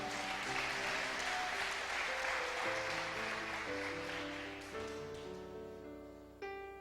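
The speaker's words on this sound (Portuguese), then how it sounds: "Você pode dar uma salva de palmas para Jesus" A church congregation claps for Jesus during a worship service. The applause is steady and full at first, then gradually fades, with sustained keyboard chords playing underneath.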